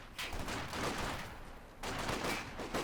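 Sustained bursts of long-range gunfire from squads in a Company of Heroes 2 battle, dense overlapping shots rolling continuously with a brief dip before the firing swells again.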